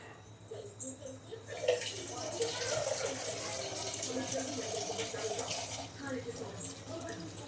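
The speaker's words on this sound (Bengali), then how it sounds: "আমি সেই জন্য একটু জল বেশি দিচ্ছি" Water poured into a pan of chilli chicken, a soft, steady splashing gush that runs for several seconds at low level, with quiet talking alongside.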